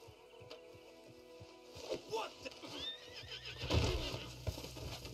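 A horse whinnies in the video game Red Dead Redemption 2 over rhythmic clip-clopping hooves, the neigh rising and wavering in the middle, while someone speaks over the game audio.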